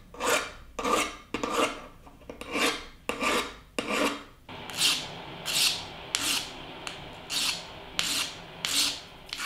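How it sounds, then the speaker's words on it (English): Hand file and sanding sticks rasping along the sharp edges of a metal watch-part bezel at a silversmith's bench, a steady series of about a dozen close, rhythmic strokes with no talk. "I'm going to use my file and sanding sticks to sand and pre-polish the edges"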